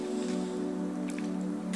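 Hands dipping and splashing in a basin of water during an at-home facial, with soft drips and light splashes over a steady background hum.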